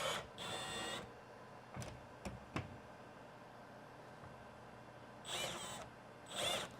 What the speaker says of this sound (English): Who needs a socket when you just can use the chuck of the drill?